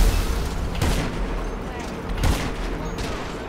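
Rapid gunfire from a GTA Online video game match, with a dense burst of repeated shots throughout and two louder blasts standing out, mixed with game sounds and close voices.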